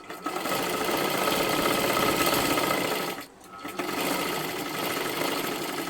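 A sewing machine stitches a sleeve for a young girl's frock, a close, steady rapid whirring hum that pauses briefly, then resumes.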